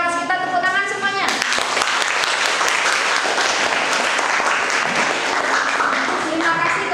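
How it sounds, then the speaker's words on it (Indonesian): A classroom of students bursts into dense, loud clapping after a brief spoken lead-in, the applause filling the rest of the moment without a break. "Tepuk tangan semuanya."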